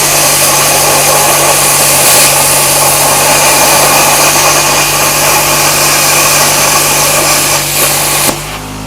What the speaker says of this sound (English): let's just run through one more cut real quick